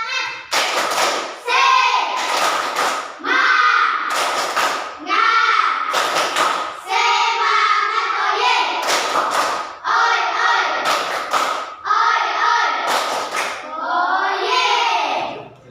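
A classroom of children performs a rhythmic spirit clapping chant, loud sharp claps in repeated bursts interleaved with group chanting voices, led by a teacher.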